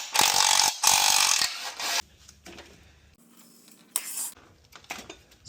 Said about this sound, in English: I'll get this bash plate off now so it's out of the way.